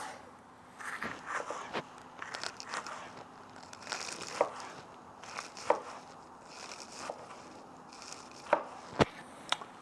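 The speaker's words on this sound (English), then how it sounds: "I'm gonna use the other piece of onion that I had to just cut them in slices" A knife cutting an onion into slices on a board, irregular soft crunches and taps spread across the stretch, some sharper knocks near the end, fairly quiet with no speech.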